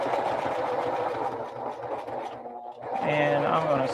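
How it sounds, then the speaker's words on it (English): A sewing machine stitches along the side of a rhinestone bag in a steady, close whirring run that dips briefly, then resumes louder and higher; a voice talks faintly underneath. "I'm gonna stitch up this side."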